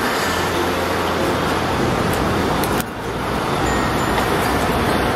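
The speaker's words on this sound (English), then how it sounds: "That's the bus that we're on." Airport limousine bus engine and surrounding street traffic in Ginza, a loud continuous roar and rumble with a brief dip near the middle, with no talk.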